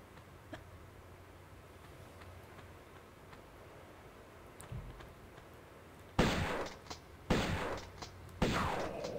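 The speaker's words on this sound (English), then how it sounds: "two shots for the shotgun and they're dead" Three loud shotgun blasts in the video game Tomb Raider 1 Remastered, evenly spaced about a second apart, each with a sharp crack and short decaying tail, following quieter ambient game sound and faint ticking.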